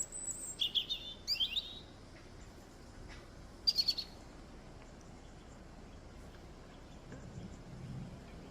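A small bird sings in the sunshine outdoors, giving a few short bursts of high chirps early on and again midway, fairly faint and clear over quiet background hiss.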